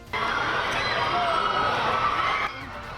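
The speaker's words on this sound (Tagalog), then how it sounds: "Sinalubong ng hiyawan ang pagdadala ni Jin ng torch" Fans scream and cheer in a loud, sustained roar as Jin of BTS carries the 2024 Olympic torch through the relay in Paris. The cheering holds steady, then drops off abruptly near the end.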